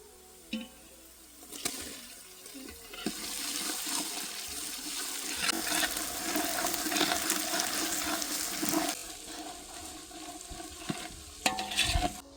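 Crushed ginger, garlic and green chilies hitting browned onions in a pan for a village-style dal palak, a loud sizzle that builds and holds with stirring clatter and a few sharp clinks of a spoon.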